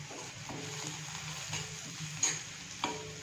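Small onions frying and being stirred over a high flame: a steady soft sizzle with occasional light scrapes and taps of the spoon, close and moderately quiet, with no talking.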